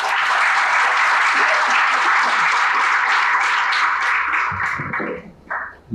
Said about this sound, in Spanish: Por favor, recibámoslo con un fuerte aplauso